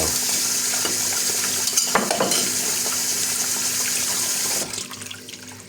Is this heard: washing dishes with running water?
yes